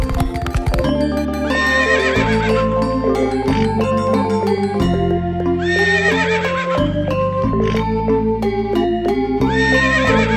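Wild horses in an animated story whinny in a few bright, rising calls that rise over loud, continuous background music, with hooves faintly clopping.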